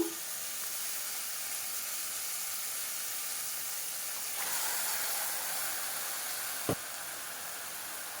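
Marinated chicken coated in salt, turmeric, chili powder and ginger-garlic paste hits a hot pan, giving a steady broad sizzle that swells briefly midway, with a single sharp clink near the end.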